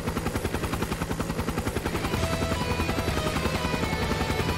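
A flying Pale Apache enemy approaches overhead in a video game, giving a loud, steady rotor-like chopping pulse that grows denser and heavier midway, with no talk over it.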